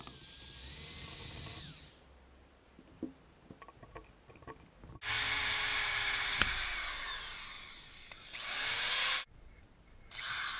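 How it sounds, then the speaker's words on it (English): A power drill fitted with a wire brush bit scours barnacles off a boat propeller, its high whirring grind running in loud bursts separated by quieter stretches of scraping and handling. "I just use a wire brush drill bit for this part."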